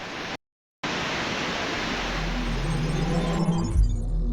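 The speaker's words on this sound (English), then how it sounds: "let's get out of here so we can get away from this horrific waterfall noise." Waterfall in The Talos Principle video game, a loud, dense, constant roar of rushing water that drops out briefly near the start, then returns and continues, with no voices.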